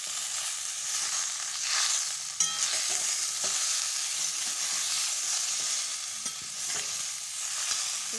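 Raw mango pieces for pickle are stirred in a pan over a low flame, giving a continuous bright sizzling hiss with soft scraping and occasional sharper utensil knocks, and no talking.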